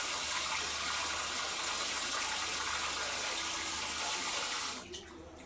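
Water runs steadily from a tap in a constant hiss, then cuts off abruptly near the end, leaving quieter room tone.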